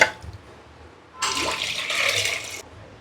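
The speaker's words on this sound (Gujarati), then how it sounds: "એક બાટલો પાણી આપણે રેડ્યું દીધું હતું." Water poured from a bottle onto fresh mint and coriander leaves for a panipuri masala, a steady splashing gush lasting a little over a second, close and fairly loud, then stopping abruptly.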